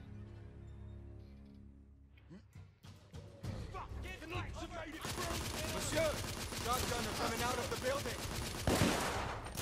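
Gunfire in The Order: 1886 video game, starting with a few scattered shots, then building into dense, continuous rapid fire that dominates the mix, with game voices talking underneath.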